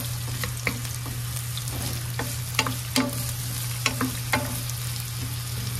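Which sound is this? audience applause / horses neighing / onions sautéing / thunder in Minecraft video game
onions sautéing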